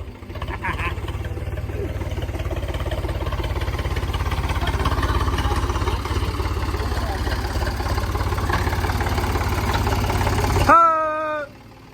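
A farm tractor engine runs steadily near a village field, its low, even chugging continuous for about eleven seconds before it cuts off abruptly.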